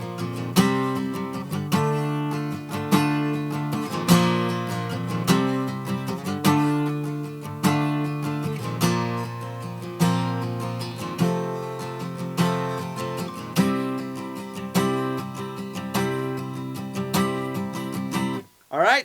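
Acoustic guitar plays the intro part from the tail of the chorus of a song, steady rhythmic strummed chords, close and clear, ending in a short scrape.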